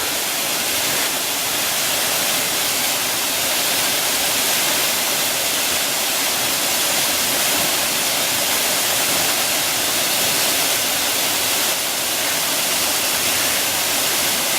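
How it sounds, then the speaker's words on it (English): Steady, loud broadband rush of a waterfall pouring down in a jungle, a constant dense roar with no breaks, heard up close without any voices. "in a waterfall."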